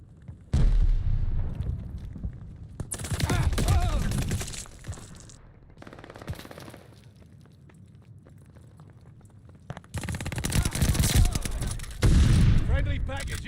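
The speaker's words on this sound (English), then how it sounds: "Tossing grenade!" Gunfire and grenade blasts from Call of Duty Vanguard erupt in loud bursts, with a dense barrage early, a quieter stretch in the middle and another heavy volley near the end, with a voice talking over the action.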